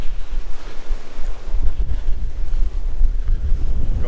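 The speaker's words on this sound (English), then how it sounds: "We're up on the top of Surf Point, and it's a little bit windy here." Strong wind buffets the microphone on the exposed hilltop of Surf Point on Dirk Hartog Island, a steady low roar with gusts swelling and easing throughout, loud and close, with no voices.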